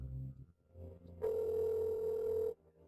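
A telephone dial tone sounds as a call is being placed, a steady, clear hum held for over a second after a brief pause, alone and close in a quiet room.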